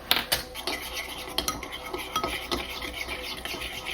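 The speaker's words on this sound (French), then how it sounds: "Et ensuite, on va mélanger." A gelatin, water and glycerin mixture being stirred in a container, with a utensil scraping and clinking in quick irregular strokes, close and clear, without speech.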